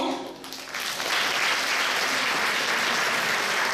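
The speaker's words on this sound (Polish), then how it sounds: "więc również wielkie brawa dla niego" Audience applause at a Christmas concert in Poland swells after a moment into a steady, dense wash of clapping from a large hall crowd, loud and sustained with no voices over it.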